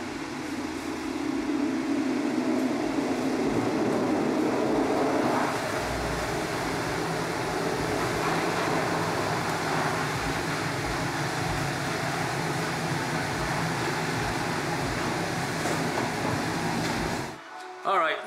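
A small heater in a large garage runs with a loud, steady blowing roar that holds for most of the stretch, broad and constant, then cuts off abruptly near the end.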